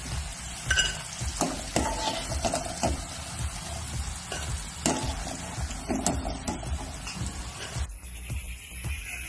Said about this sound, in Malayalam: അപ്പോഴേ നമുക്ക് ഈ പാകത്തിൽ നമുക്കിത് വറുത്തു കോരിയെടുക്കാം